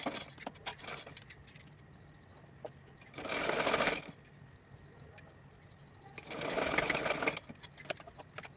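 An electric sewing machine stitches a folded hem on a small fancy fabric dress for a size 5-6 Kanha ji idol, running in two close, loud bursts of rapid whirring with quieter handling sounds between.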